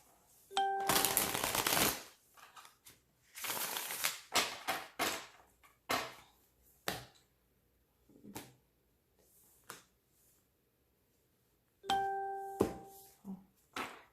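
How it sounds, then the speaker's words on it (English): Tarot cards are shuffled in several bursts of riffling and flicking, with clear pauses between, as a chime rings at the beginning and again near the end. "I don't know why I felt like doing all of these shuffles."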